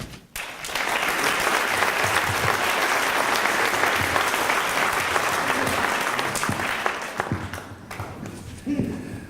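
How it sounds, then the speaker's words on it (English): Audience at a storytelling event applauding as a speaker is welcomed to the stage, a steady wash of clapping that holds for several seconds before thinning out near the end. "that applause was not for me"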